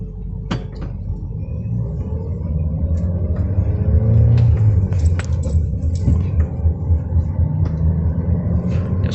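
Car gains speed on an isolated road, recorded from inside the cabin as a steady low engine and road rumble with a few faint clicks throughout.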